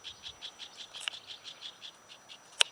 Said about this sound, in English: Little sparrows of some sort.